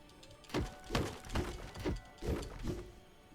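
Icy shattering bursts from ice bombs in the action game Absolum, about five sharp cracking breaks in quick, fairly even succession, moderately loud with a crunchy, glassy edge.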